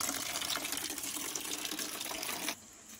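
A tap runs steadily, filling a container with water in a continuous close hiss and splash, then the flow drops away sharply near the end, leaving a quieter background.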